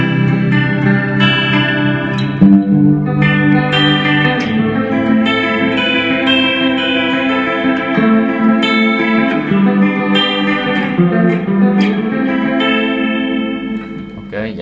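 Electric guitar played through a Mooer GE100 multi-effects unit with an adjusted fuzz patch, giving a shimmering, chorus-washed tone. Sustained chords and notes ring continuously and loudly throughout.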